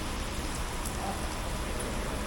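Steady rain falls in Batumi, Georgia, a dense, even hiss of drops on surfaces, close and continuous throughout without pauses.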